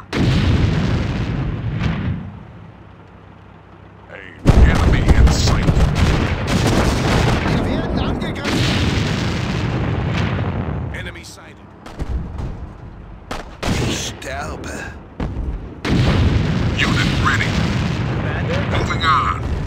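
Artillery fire in the World War II strategy game Sudden Strike 2: loud booming blasts and rumbling explosions in bursts, with short quieter gaps, mixed with voiced unit callouts.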